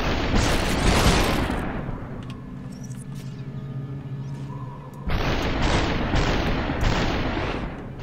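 Gunfire in the video game SUPERHOT comes as loud, close booming shots, with one heavy blast at the start that fades out and another burst about halfway through, followed by a few sharp hits.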